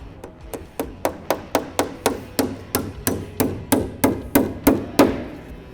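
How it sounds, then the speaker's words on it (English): Nails being driven into wood by hand with a hammer, about fifteen sharp, evenly spaced strikes in a steady rhythm, close and clear, with no talking. "we have to hand hammer all the nails"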